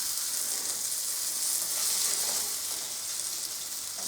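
Liver, bacon and onions fry in a pan with a continuous, bright crackling sizzle, close and steady throughout, with no other sounds.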